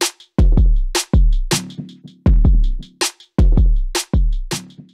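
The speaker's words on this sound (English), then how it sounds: "And that drum track actually sounds like this." A simple looped drum track from a Maschine Plus and SP-404 setup plays on its own. Booming kicks and sharp snares repeat in a steady, punchy groove.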